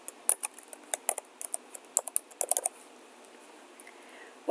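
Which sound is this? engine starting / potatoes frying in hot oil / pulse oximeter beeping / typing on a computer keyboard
typing on a computer keyboard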